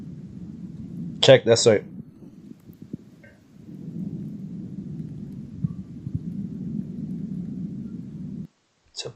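Low, steady rumbling of distant thunder rolls through a thunderstorm with lightning in Dungeness, Kent, continuing faintly for several seconds, with a brief spoken remark near the start.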